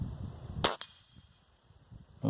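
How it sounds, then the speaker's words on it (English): Modded .30 caliber Benjamin Marauder PCP air rifle fires at a steel target, a sharp crack followed almost instantly by a metallic ping, then a quiet pause before a fresh burst of noise at the end. "we're going to shoot a couple of those at that steel target and see what kind of group we can get"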